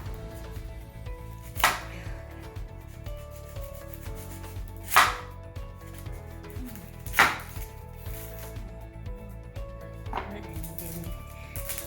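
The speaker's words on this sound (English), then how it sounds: "I'm going to cut this onion and cut both of the ends off" A knife chops through an onion on a cutting board, trimming off both ends: three sharp, distinct cuts spaced a few seconds apart, with a faint fourth near the end, over a low steady background hum.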